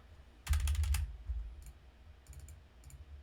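Quick keys are tapped on a computer keyboard: a short burst of clicks up close, then a few scattered, softer keystrokes after a pause, with no talking.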